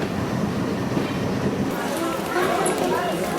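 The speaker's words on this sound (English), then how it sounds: "In the crisp, cool morning air, their train pulled into the Dehradun station." Train pulling into Dehradun station in India, the Mussoorie Express, with a steady loud rumble of rolling wagons and wheel clatter, voices mixed into the station din.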